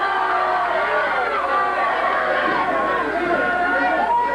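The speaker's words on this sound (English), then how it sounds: "The crowd hollering." A crowd at a 1970s California wrist wrestling match hollers and chatters loudly, a dense continuous babble of shouting voices filling the whole stretch.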